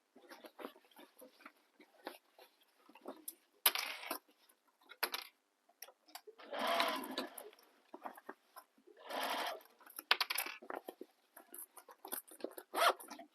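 Short bursts of a sewing machine stitching a bag lining panel, several separate runs stopping and starting, close and fairly quiet, with brief handling noises in between.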